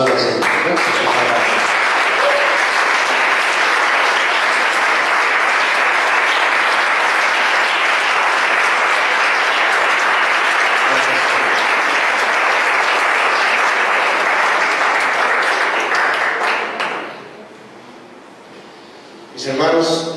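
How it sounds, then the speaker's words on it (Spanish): A church congregation gives long, loud, continuous applause during a worship service, holding steady for about seventeen seconds before fading quickly to near silence, then picking up briefly again. "Demos un aplauso al Señor."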